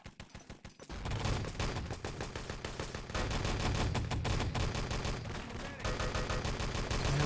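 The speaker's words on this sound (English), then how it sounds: "Loads and loads of gunfire from the Rushit team is going to completely shut down that next push" Dense automatic and rapid gunfire from an Enemy Territory match at a 6on6 LAN tournament final, loud and continuous with overlapping bursts throughout, a brief lighter spell of shots at the start before the full barrage.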